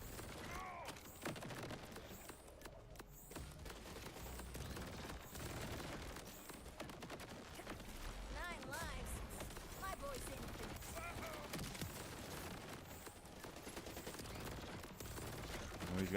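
Turret fire in the Borderlands game, a dense, steady clatter of rapid shots under mechanical whirring, with no voices.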